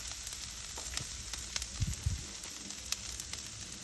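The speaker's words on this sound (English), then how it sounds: "I'm going to go ahead and drop down some garlic." Garlic sizzles on a Blackstone griddle with onions already cooking, giving a faint, steady frying hiss broken by a few soft crackles and pops.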